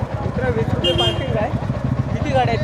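A motorcycle engine idles with a steady low throbbing pulse while people talk nearby over it.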